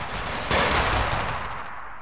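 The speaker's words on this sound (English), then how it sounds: "I think I heard AK fire really close to us" AK rifle fire in the Arma video game erupts at close range as a dense, loud burst of rapid shots after a brief moment of quieter ambience, then rolls on with a sustained crackling rumble.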